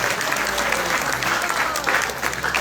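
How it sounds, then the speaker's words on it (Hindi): Devotees clap loudly together at a Krishna temple Rath Yatra katha gathering, a dense crowd applause close and sustained for the whole moment, with faint voices mixed in. "सबके लिए जोरदार ताली"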